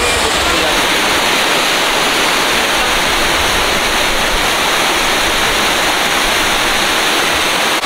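A mountain waterfall spills from a rocky crevice in a loud, close, constant rushing roar, dense and unvarying from start to finish.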